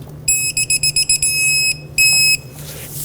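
An electronic torque wrench beeps as it tightens the mounting nut on a 2012-2017 Toyota Camry front wheel bearing to 91 foot-pounds: a quick run of short, loud, close beeps, then a sustained tone, a brief pause and another long tone, with no talk.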